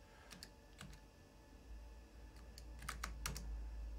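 Keys on a 1991 Apple Macintosh Portable (Backlit) keyboard are tapped in short, irregular bursts of crisp, close clicks, quiet and with no voices, the presses clustering more densely toward the end.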